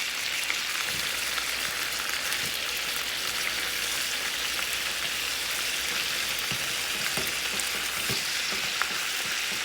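Lamb chops sear in a hot pan, giving a soft, steady sizzle and crackle with scattered small pops throughout, fairly quiet and unbroken by speech.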